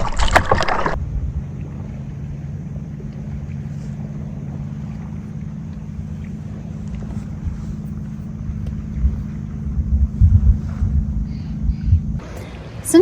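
A boat paddled across calm Lake Tahoe, with a steady low rumble of water and hull running for most of the stretch. Brief louder splashy bursts come at the start and end, and no one speaks.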